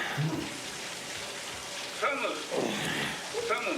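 Shower water running in the video game Death Stranding, a steady broadband hiss of spraying water throughout, with a voice talking over it in the middle and end.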